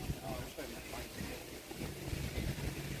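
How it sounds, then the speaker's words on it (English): Wind buffets a microphone in continuous rumbling gusts, loud and close, with a voice briefly audible beneath the noise. "A little windy out though."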